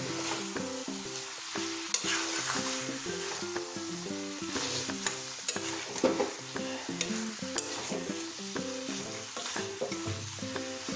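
Vegetables with ground coriander and other powdered spices sauté in a wok for a light rohu fish curry, a constant close sizzle broken by repeated scraping strokes of stirring.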